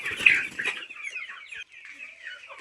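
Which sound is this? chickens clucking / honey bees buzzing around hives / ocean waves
chickens clucking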